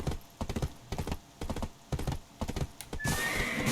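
Galloping hooves of a horse in the Black Desert online game beat in a steady rhythm, close and distinct, ending in a rising neigh at the close.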